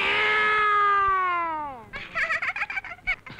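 A human voice imitates an old cat meowing: one long, drawn-out wail that slowly falls in pitch, followed by a run of short, choppy vocal bursts.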